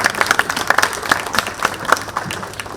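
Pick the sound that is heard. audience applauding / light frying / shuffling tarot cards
audience applauding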